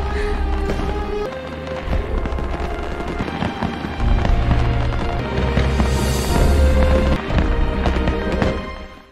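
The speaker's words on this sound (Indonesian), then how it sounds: "menikmati pertunjukan kembang api" Fireworks crackle and pop in the animated series A Record of a Mortal's Journey, amid a loud, dense wash of music and booming low rumbles.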